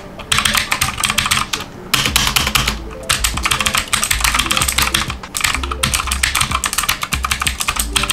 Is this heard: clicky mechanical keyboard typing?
yes